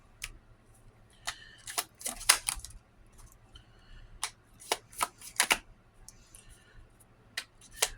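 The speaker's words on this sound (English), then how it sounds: "I will shuffle twice because that's what I did for the other ones." Tarot cards being shuffled by hand in repeated crisp riffling bursts and soft slaps, close and fairly quiet, with short pauses between bursts and no talking.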